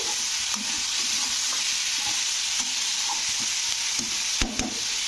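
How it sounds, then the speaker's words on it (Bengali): Eggplant with a spoonful of salt sizzles steadily in a pan, a constant close frying hiss broken by occasional spatula scrapes and stirring knocks, with no one speaking. "লবণটা দিয়েও নাড়তে হবে কিছুক্ষণ তো দেখবে নাড়তে নাড়তে কি সুন্দর বেগুনগুলোও নরম হয়ে যাবে"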